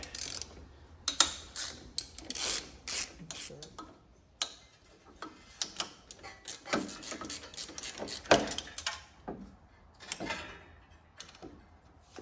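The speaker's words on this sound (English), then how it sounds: "So I'll take these two bolts off here." Metal clicks and ratcheting from bolts being loosened on the starter of a John Deere D100 series lawn tractor with a Briggs engine, sounding as irregular close taps and clatter with brief pauses.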